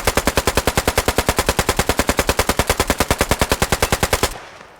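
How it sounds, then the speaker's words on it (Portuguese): A 9mm British WWII submachine gun fires one long sustained burst of rapid, evenly spaced shots, loud and close, stopping abruptly after about four seconds with a short ringing tail. "Eu vou atirar com ela aqui."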